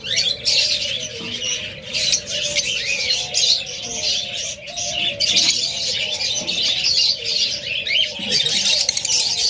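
Pair of doves or cockatiels in a breeding box, repeated chirps and tweets with soft coos, fairly close and continuous over faint background noise.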